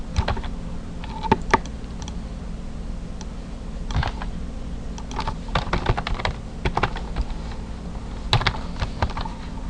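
Typing code on a computer keyboard: quick, irregular clusters of close key clicks with brief pauses, over a steady low electrical hum.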